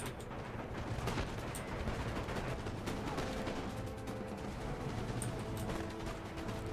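Musket volleys crackle in a black-powder battle of Empire Total War, a dense, steady stream of distant gunfire rolling on without pause and with no talk over it.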